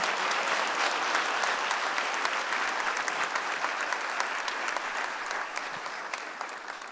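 Congregation at a church conference opening in Brazil applauding steadily, a dense wash of many hands clapping throughout without pause, loud and close.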